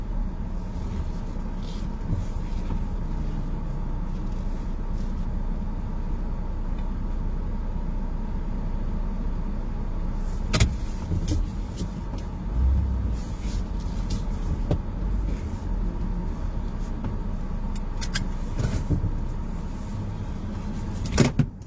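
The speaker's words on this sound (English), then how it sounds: "That's a diesel." A diesel vehicle engine on the road gives a steady low rumble, heard from inside a moving vehicle. Occasional clicks and light knocks sit on top of it.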